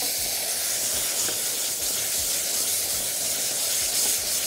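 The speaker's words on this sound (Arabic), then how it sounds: "وبعد كده هنزل على طول بالطماطم" Tomatoes sizzle in a hot pan with a steady, bright hiss like rushing steam, continuous and fairly even throughout, with no voices.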